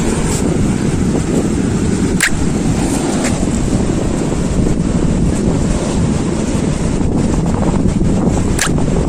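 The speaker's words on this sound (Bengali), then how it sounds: "এরকম সমুদ্রের গর্জন শুনতে শুনতে" Sea waves at Mandarmani beach form a constant, loud roar of surf mixed with steady wind buffeting the microphone, with a few sharp knocks breaking through.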